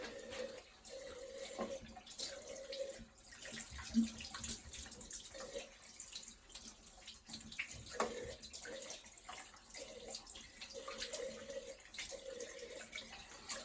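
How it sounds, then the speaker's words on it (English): Water runs steadily from a tap into a sink while exfoliator is rinsed off a face, with splashing and rinsing sounds over a continuous faint rush; no talking. "That takes ages because you have to rinse off all that exfoliator really well"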